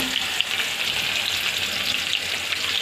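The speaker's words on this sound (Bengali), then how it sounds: "তো দেখুন এই তেল গরম হয়ে গেছে, পেঁয়াজ দেবো, অল্প অল্প পেঁয়াজ কুচি দেবো" Chopped onion goes into hot oil in a pan for a katla fish curry, giving a steady, loud sizzle and crackle of frying throughout, with no voices over it.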